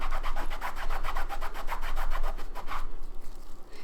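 Someone scrubs stains inside a Louis Vuitton handbag by hand, making a rapid, rhythmic rasping rub of about a dozen close strokes that stop near the end, with no talking.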